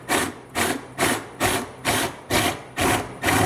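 Hand drilling into alligator bone for a bone flute whistle, a rhythmic rasping grind repeating about every half second, eight even strokes, close and moderately loud with no talk.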